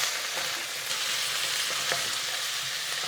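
Chopped onion sizzles in hot oil in a pan, a dense steady crackling hiss up close with faint stirring clicks, no voices.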